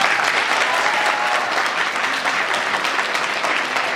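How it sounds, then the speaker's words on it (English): Dense, steady applause from an audience after a talk at a medical school event, filling the room at an even level throughout. "Could we just give him another round of applause?"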